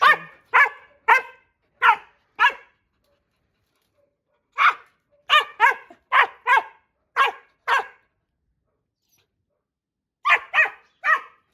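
A Laika hunting dog barks in repeated bursts, first a run of five sharp barks, then a longer cluster of about eight after a pause, and three more at the end, loud and close with silence between.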